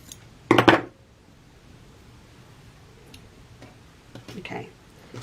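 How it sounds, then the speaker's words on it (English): Paper scissors cut a sheet of paper in half while making 3D Christmas tree crafts. A crisp, close snipping burst comes early, then a quieter run of cuts near the end, with no talking. "We're going to cut this in half"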